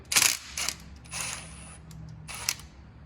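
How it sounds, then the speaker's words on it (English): A 10mm socket works the cam gear bolt loose on a Janus 250 engine, a few sharp metallic clicks and ratcheting ticks with short scraping bursts, close up and fairly quiet, no talking. "To remove your cam gear, use that 10mm socket."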